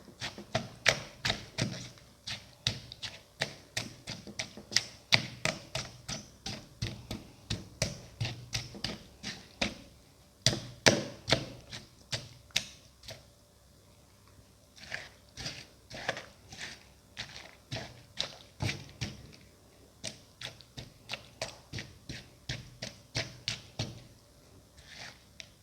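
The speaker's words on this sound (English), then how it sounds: "Press and crush watermelon pieces." Watermelon pieces for a lemon ginger bowl are pressed and crushed, giving a long run of close, sharp tapping thuds in irregular bursts with brief pauses between.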